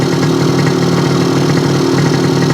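A Yamaha 100 Trailmaster motorcycle engine idles loudly and steadily up close, a constant even rumble with no talking.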